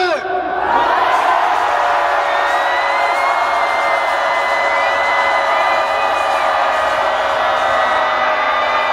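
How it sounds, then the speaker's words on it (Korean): A large crowd at a Gwanghwamun rally against a presidential impeachment lets out a loud, sustained roar of cheering and shouting that swells at the start and holds steady, with shrill horn-like tones ringing above the crowd noise. "광화문이 떠나갈 때까지 우충한 함성 소리!"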